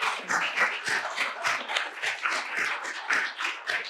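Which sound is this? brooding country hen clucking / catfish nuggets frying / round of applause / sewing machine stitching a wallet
round of applause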